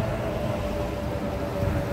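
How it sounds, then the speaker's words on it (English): A steady, broad engine roar of an airplane flying overhead in the Tampa Bay area fills the air continuously, a constant rumbling drone without pauses or voices. "you hear that airplane?"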